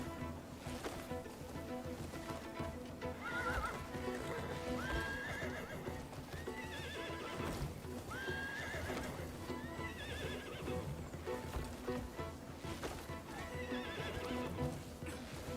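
Repeated horse neighs and whinnies over continuous clip-clopping hooves in the video game Crimson Desert, steady and moderately quiet across the whole stretch with a faint wave-like wash beneath.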